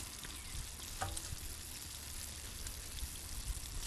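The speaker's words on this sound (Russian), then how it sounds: "А там, слышите, как шкварчат овощи?" Vegetables baking in a homemade oven sizzle with a dense, steady crackling hiss and scattered pops, quiet and continuous with no voices.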